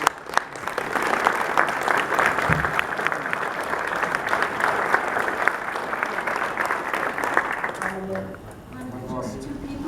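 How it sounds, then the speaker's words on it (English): Sustained applause from an audience at a book launch, dense clapping at a steady level for most of the stretch before thinning out, with a voice speaking over the tail end. "A round of applause because this could not have happened without everyone."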